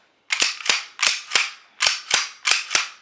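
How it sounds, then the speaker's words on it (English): Metal-on-metal clanks from repeatedly racking the slide of an HK USP 9mm pistol, six sharp, loud, close clacks in pairs with no plastic buffer ring softening the impact. "You hear that clanking sound? Yeah, metal to metal."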